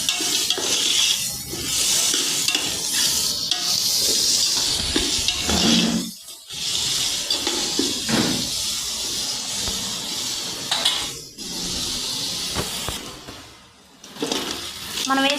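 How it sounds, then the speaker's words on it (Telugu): Coriander and mint leaves fry in hot oil in a pan, giving a loud steady sizzle with scraping stirs and clinks of a utensil, briefly dipping a few times as the pan is worked. "కట్ చేసి పెట్టుకున్న కొత్తిమీర, పుదీనా వేసుకోవాలి. ఇవన్నీ బాగా వేగాలి."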